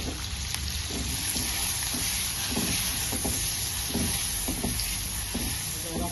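Thinly sliced medium onion fries in butter in a pan for corn rice, a continuous soft sizzle with regular spatula scrapes and taps, close up and without talk.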